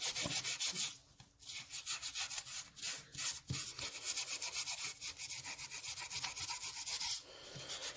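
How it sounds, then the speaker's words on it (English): A Scotch-Brite pad rubs back and forth across the head gasket surface of a 1971 Triumph Tiger 650cc engine, a close, continuous scratchy scrubbing in quick repeated strokes with short pauses. "And you don't want to use sandpaper. Scotch Brite works just perfect."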